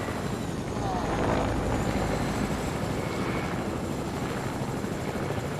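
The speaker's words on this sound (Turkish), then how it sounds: "şu anda helikopteri ben sürdüğüm için" Helicopter flying in the Fortnite video game: a steady, continuous rotor and engine drone that holds loud and even for the whole stretch, with no talk over it.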